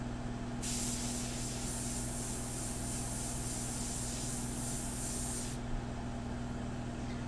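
An airbrush sprays India ink in one steady hiss lasting about five seconds, close and constant over a low, humming compressor drone that carries on before and after.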